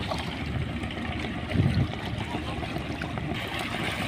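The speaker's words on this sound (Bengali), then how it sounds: "এই পানির স্রোত ঢেউ" River current and waves wash along a riverbank on a rainy monsoon day where a fishing trawler passes, a steady broadband rushing with a brief louder swell, continuous and moderately close.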